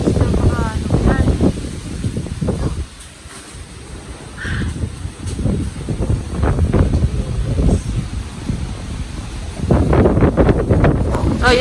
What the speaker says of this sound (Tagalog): Tapos yung hangin talaga dito diretso. Kaya mas nararamdaman namin yung hangin.